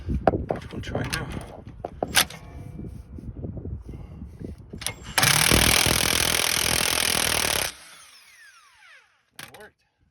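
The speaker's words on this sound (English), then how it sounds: "You also might have some luck trying to lock it from the back with the vice grip and then hitting it with a power drill." A power drill hammers at a stuck rear sway bar link bolt held with vice grips, a loud steady whirring burst lasting a few seconds after clanking tool handling and talk, then stopping abruptly.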